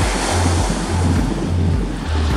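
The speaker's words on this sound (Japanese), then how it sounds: "海にはインサイド気味ですけど綺麗な波が割れています。" Ocean waves break on the Sea of Japan shore on a morning with offshore wind, a steady loud wash of surf with heavy wind rumble on the microphone and no voices.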